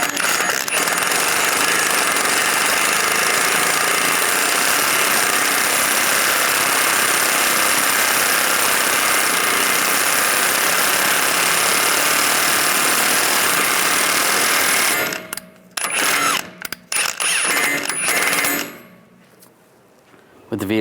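An axle nut is tightened on a 1998-2010 Volkswagen Beetle during a strut mount replacement, a loud continuous mechanical whirring and rattling for about fifteen seconds before breaking into short irregular bursts and quiet.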